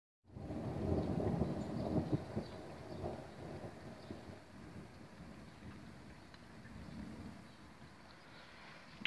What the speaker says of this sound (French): ça fait la 3e fois que j'entends ce tonnement, ce grondement d'orage